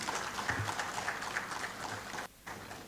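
A seminar audience applauds the retiring registrar, a steady patter of clapping at moderate distance that briefly drops out near the end before resuming.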